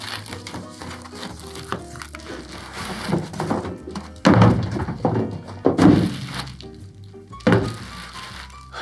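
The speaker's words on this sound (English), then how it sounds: "That did not want to come out of there. That sounds a nice little drawer." A lockable drawer is tugged out with effort, giving a series of sliding scrapes, rattles and a few sharp thunks as it sticks and then comes free.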